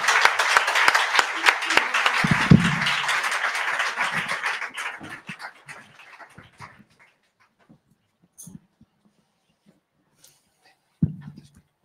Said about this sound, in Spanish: Nicola Monville y Miriam Soteras, por las que pido por favor un fuerte aplauso.